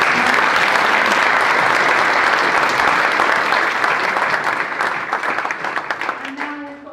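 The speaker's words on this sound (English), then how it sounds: "Can I have a massive round of applause?" A large audience at a leaders' panel event breaks into loud, sustained applause, dense clapping that holds steady and then gradually thins and fades toward the end.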